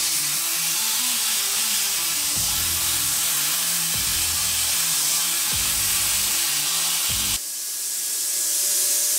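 A plasma cutter slices through metal with a loud, continuous rushing hiss, low pulsing tones underneath, before the sound shifts abruptly near the end.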